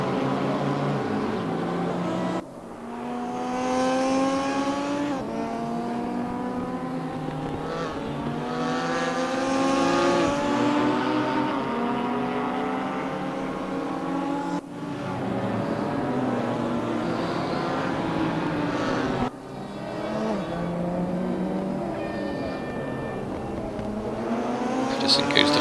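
Race cars of the GTR 4 Series lapping Mantorp Park, engines droning and shifting through gears in a steady rising and falling whine, with a commentator talking over the track noise throughout.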